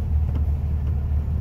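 A 1964 Volkswagen Beetle with a 40 horsepower engine pulls away on a chilly day, its low steady engine rumble loud and close throughout with no talk.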